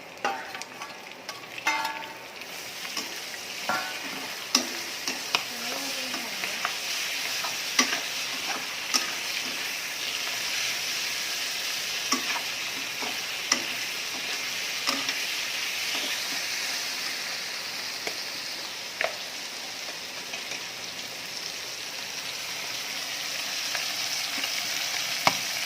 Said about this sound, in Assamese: পিঁয়াজখিনি ৰঙচুৱা হোৱালৈকে ভাজি ল'লো এতিয়া ইয়াত মাংসখিনি দি দিলোঁ